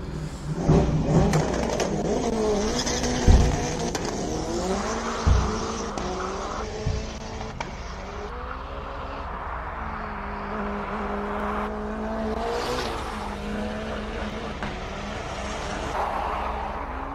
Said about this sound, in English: I know the sound of that car coming up next